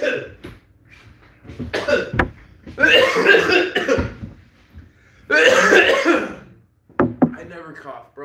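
Harsh, bursting coughs come in ragged clusters, loud and close, with a long fit in the middle and another near the end, broken by short gasps and throat sounds.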